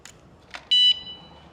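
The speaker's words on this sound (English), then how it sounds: "That beeps letting you know that the power's there now." A single steady electronic beep from a vehicle security alarm unit powering up, loud and close, lasting about a quarter second after a couple of faint clicks, then quiet background.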